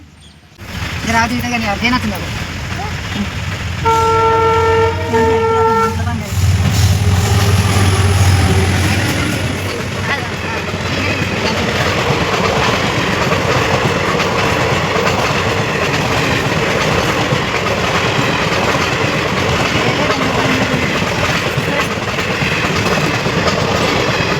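A train passes a railway level crossing with its gate down, sounding a loud steady horn early on, then a sustained rumble and clatter of wagons rolling by up close while people talk over it.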